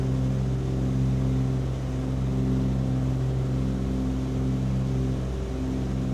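A Cessna 414 twin flies on a single engine with the other propeller feathered, the good engine at full power producing a loud, steady droning hum with strong even tones that never lets up.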